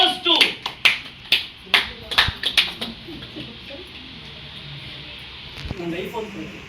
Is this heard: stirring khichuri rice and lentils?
no